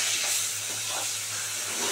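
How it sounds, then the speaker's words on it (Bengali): Bata fish, three of them, shallow-frying in a pan for a green mango curry, giving a steady loud hiss and sizzle that runs unbroken with no voices. "এক পিঠ ভাজা হয়ে গেছে, এবার উল্টে দিচ্ছি"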